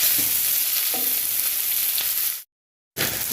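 Onions and tomatoes fry in a pan for a chicken gravy, a steady hiss of sizzling with occasional stirring scrapes, cut by a brief moment of silence before resuming.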